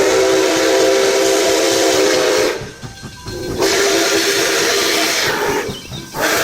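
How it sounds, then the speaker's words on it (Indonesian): A toy steam train blows a steady, shrill whistle over hissing steam and chugging, pausing once briefly before the whistle returns. "Keluarlah kereta uap."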